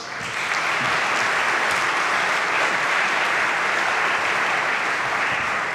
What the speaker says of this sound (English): could we have a round of applause for Jay Bautista?